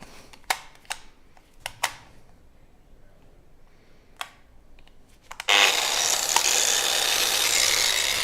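A polishing machine is switched on at its lowest speed. After a few sharp handling clicks, a steady, loud broadband whir starts abruptly and runs on without a break.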